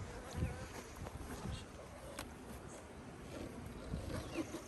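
A dense, steady hum of many honey bees buzzing close up at a packed hive, continuous and low with faint movement noises mixed in.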